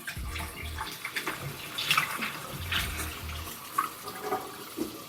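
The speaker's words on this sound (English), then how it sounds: "Grab me a bowl, put some water in here, and let this bad boy submerge." Tap water running and splashing into a bowl to cover frozen tuna for defrosting, a steady pour with small gurgles and shifts in flow, close and alone.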